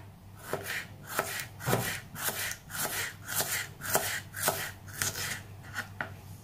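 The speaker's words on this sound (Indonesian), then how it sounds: "Kita iris bawang merah." A knife slices through shallots on a board in a kitchen, steady rhythmic cuts roughly twice a second, each a crisp close chop with no talking.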